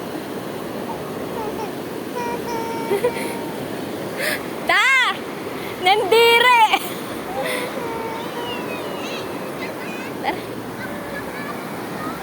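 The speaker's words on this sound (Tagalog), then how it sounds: "Lakas ng alon, oh." Strong sea waves break on a shore in a steady, loud wash of surf, with excited voices shouting and cheering close by over the rush of water.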